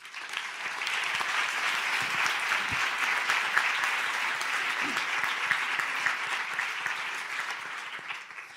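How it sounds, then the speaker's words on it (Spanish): Warm audience applause for guests on a discussion panel, a dense even wash of clapping that rises quickly and holds steadily before easing slightly at the end. "Os pido un aplauso también para ellos."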